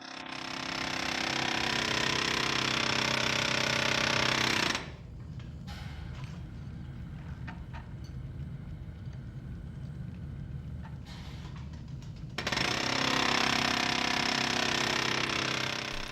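A pulley-driven file-cutting machine hammers rapidly and loudly while cutting teeth into industrial files, pauses for several seconds of quieter mechanical whirring, then resumes its fast, continuous pounding.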